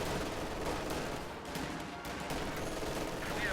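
Rifle gunfire in the World War II strategy game Company of Heroes 2, US and Soviet troops firing from light cover into a building, a steady dense crackle of shots with battle noise that continues throughout.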